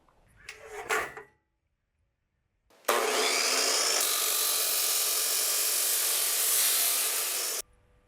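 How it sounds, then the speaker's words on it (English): A chop saw cuts through a bundle of eight metal framing studs at once, a loud, close, sustained grinding shriek lasting several seconds, preceded by a short clunk and a pause of silence. "I was able to cut 8 studs at one time with this chop saw."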